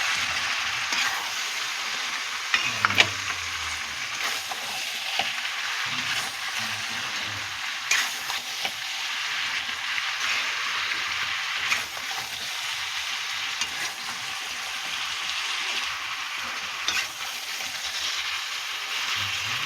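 Fish roe curry with onion frying in oil, a continuous soft sizzle and hiss with occasional clinks and scrapes as everything is mixed, steady and moderately quiet throughout, no voices.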